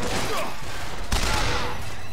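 An upgraded machine gun fires in the video game BioShock Infinite, a dense rapid burst of shots rattling continuously and loudly over the whole short span.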